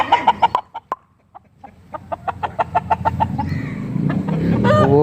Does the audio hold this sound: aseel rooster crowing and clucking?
yes